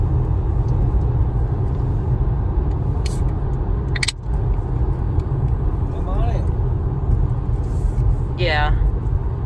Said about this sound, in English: Most of it's road noise. That's what we're hearing from this concrete surface here, which is pretty loud.